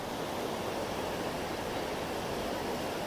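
Steady, loud rushing water fills the whole stretch, a dense continuous roar like a nearby waterfall or fast stream, with no talking.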